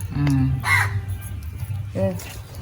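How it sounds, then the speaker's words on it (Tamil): Crow cawing outdoors in Jaffna, a few harsh caws close by in separate bursts, with people talking in the background. "காகம் கூட தான் கத்து"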